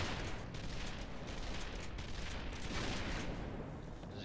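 Dense, continuous video-game combat noise as grenade-launcher fire pounds a dropship, a rolling fusillade of distant blasts and gunfire that blurs into a constant roar with no clear gaps.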